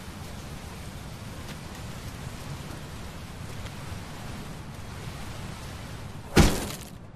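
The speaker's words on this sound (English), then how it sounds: "It is raining." Rain falling in the video game Teardown: a faint, steady hiss of rainfall runs throughout, with a sharp loud crack near the end, like something smashing or a door slamming.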